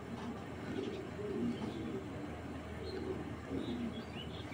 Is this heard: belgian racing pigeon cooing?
yes